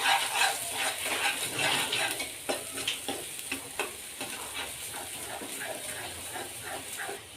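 A spoon stirs chopped coriander and curry leaves into spicy Maharashtrian katachi amti in a pan, giving rhythmic scraping and light sizzling with repeated soft clinks over a steady frying hiss.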